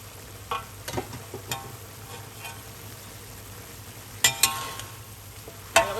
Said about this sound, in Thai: คลุกให้เข้ากันค่ะ เราจะผัดไม่นานนะคะ เพราะว่าเส้นเขาสุกอยู่แล้วนะ